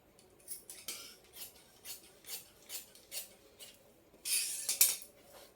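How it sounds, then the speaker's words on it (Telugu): Scissors cut through the main blouse fabric for a lined blouse, a series of soft, rhythmic snipping rasps close by, about one per half second, ending in a louder, brighter burst of cutting. No one speaks. "దీనికి మెయిన్ క్లాత్ కట్ చేసుకుందాం"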